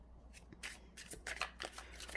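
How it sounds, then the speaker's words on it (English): Tarot cards being shuffled by hand during a reading; a brief series of soft, close riffling and slapping bursts, fairly quiet, with no talking. "Let me pull some other cards."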